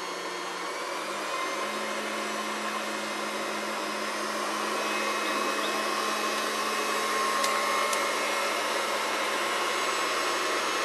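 A water pump engine in Thailand runs on a charcoal gasifier, giving a steady, loud droning whine with a constant hum that holds evenly throughout and rises slightly as power is added.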